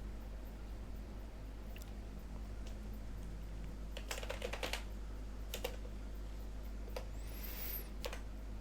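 Someone types a name on a computer keyboard, a quiet close run of key clicks that comes in short bursts over a low steady hum, with a denser flurry of taps partway through.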